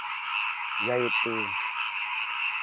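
Frogs croak in a rice paddy in the morning, two short loud croaking bursts close together over a steady high chorus of insects and distant frogs; a voice speaks briefly.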